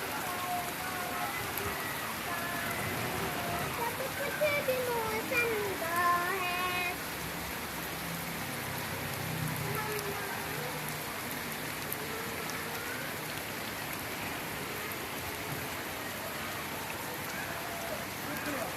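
Heavy rain pours down steadily in a dense, hissing roar, with a voice briefly audible beneath it near the start.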